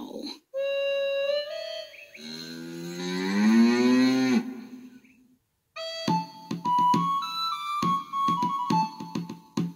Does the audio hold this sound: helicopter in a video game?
no